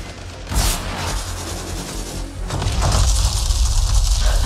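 Gunfire in the video game Avatar: a loud, dense burst of shots and booms that starts abruptly and keeps going as a sustained barrage with no voices.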